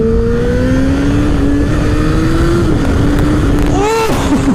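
A sport motorcycle engine, a BMW S1000R or Honda CBR1000RR, revs and pulls hard close by, its whine climbing steadily through the gears, then a quick shift near the end, loud throughout.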